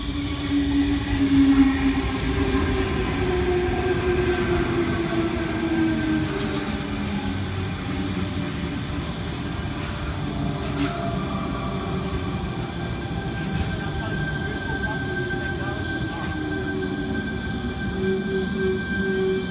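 A Tangara passenger train pulls out of a station, a steady rumbling roll with rising motor tones and occasional squealing wheels, loud and continuous throughout with no talk.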